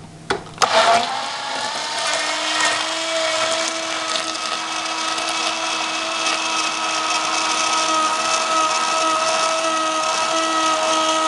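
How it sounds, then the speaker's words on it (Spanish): Two eggs and salt whipped until foamy with an electric mixer or blender, a steady close whirring motor hum with a constant high whine running throughout after a brief start. "Hemos echado 2 huevos y la sal y ahora vamos a batir hasta que salga espuma"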